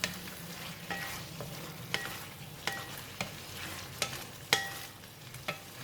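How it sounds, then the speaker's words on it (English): Pork belly stir-fries in a wok with chili and kaffir lime leaves, a constant sizzle broken by sharp, regular scrapes and clinks of a spatula on the pan. "Just give it a stir."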